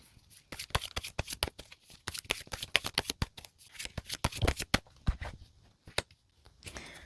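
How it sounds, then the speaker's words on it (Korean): Tarot cards being shuffled by hand up close, a rapid series of crisp riffling snaps and flutters in uneven bursts, alone with no talk. "지금 카드가 한 장 튕겨져 나와서 이 카드를 먼저 참고로 해서 넣어두도록 할게요"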